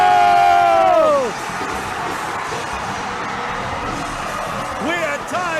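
A basketball arena crowd cheers loudly, with a commentator's voice ringing out over the start before the roar settles into a steady wash of crowd noise, shouts and whoops.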